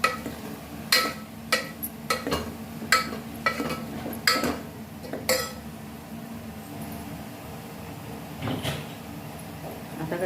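A utensil stirs pomfret fish heads through masala in a pan, giving a run of sharp clinks and scrapes against the metal at an uneven pace, close by, with a low kitchen background and no talking.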